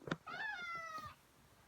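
A house cat meows once, close but quiet: a short, drawn-out, slightly falling cry lasting under a second, preceded by a faint click and followed by near silence.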